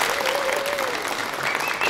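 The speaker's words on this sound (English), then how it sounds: "a big round of applause for everyone and the fabulous QCED Chorus" Audience applause at a choir championship concert, a dense and steady wash of clapping with a faint voice or whistle rising above it, holding at even loudness for the whole short stretch.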